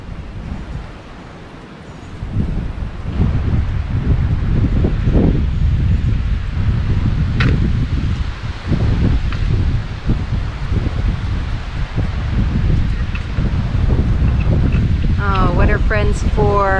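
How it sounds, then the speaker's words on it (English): Wind gusting steadily outdoors around a garden and greenhouse where guinea fowl roam, buffeting the microphone loudly with rustling through most of the stretch and a brief higher chirping near the end. "Sorry about the wind."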